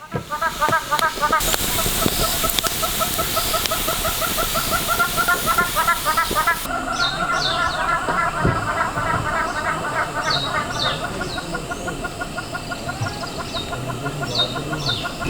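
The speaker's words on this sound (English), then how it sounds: "It's amazing to hear the yellow-billed hornbills going off this late in the evening" Outdoor evening chorus in Kruger National Park with repeated clucking, hooting calls of yellow-billed hornbills over a steady hiss of insects and other birds.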